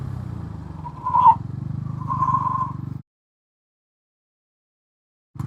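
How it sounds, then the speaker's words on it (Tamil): A 160cc sports motorcycle braking from 60 km/h on its rear brakes only, a steady close engine drone with a rising tyre scrub that cuts off abruptly into silence. "இப்படி நம்ம வந்து 60 to 0 இன் ரியர் பிரேக்ஸ் பார்க்கலாம்."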